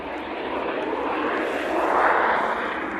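A Jet2 Boeing 757 lands at Manchester Airport, its engines giving a loud, steady broadband roar that swells slightly near the end.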